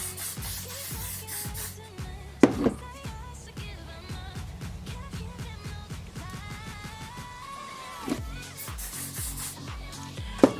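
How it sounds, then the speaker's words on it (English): Hairspray hisses from a can onto a sleek low updo in a few short bursts, close and fairly soft, under background music. "Now I'm going to finish off by spraying the rest of my hair."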